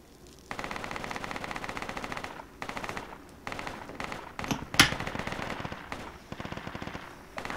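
Machine gun fire from an enemy saw gunner in a video game, in repeated rapid bursts with short pauses between them and one louder, sharper blast near the middle.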